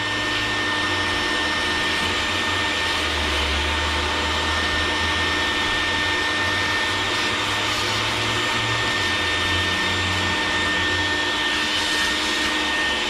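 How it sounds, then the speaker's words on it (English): A shop vacuum runs steadily while combustion chambers are blended, a loud, constant whine and roar that holds unchanged throughout with no talk. "Crank up the vacuum here and vacuum that off."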